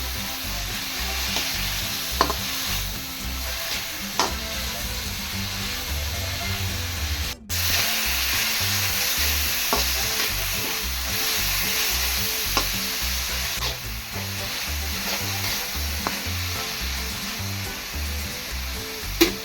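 Crab curry masala roasts in a hot pan with a continuous loud sizzle and frying hiss, broken by occasional stirring scrapes, close up and without talk.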